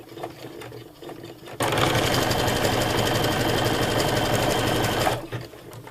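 A sewing machine fitted with a zigzag foot stitches fabric for a wedge pillow cover, starting abruptly into a fast, steady mechanical whirr that runs for a few seconds and then stops, with quiet handling before and after.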